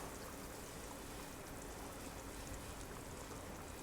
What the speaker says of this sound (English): So that's a simmer.